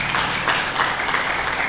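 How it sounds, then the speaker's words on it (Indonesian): A church congregation at a Sunday service applauds, a short, even wash of many hands clapping at once, fairly loud and sustained. "Mari kita berikan tepuk tangan bagi Yesus."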